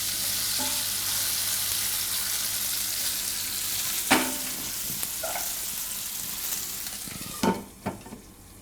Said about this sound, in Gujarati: હવે ધીમો ગેસ રાખીને અને આપણે પાકવા દેવું, ઢાંકીને. વચ્ચે વચ્ચે હલાવતું રહેવાનું.